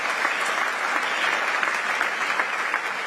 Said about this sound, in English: Let's give him a big round of applause in absentia.